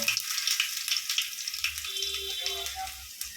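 Crushed garlic cloves dropped into a pan of hot oil with popping mustard seeds and urad dal, frying with a steady close sizzle and crackle throughout, no talking.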